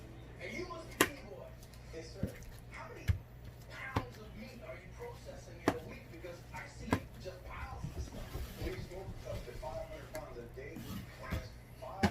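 Knife trimming a hanging piece off raw chicken for smoked barbecue, a series of faint, sharp ticks and cuts spaced irregularly over a low hum, with someone talking throughout.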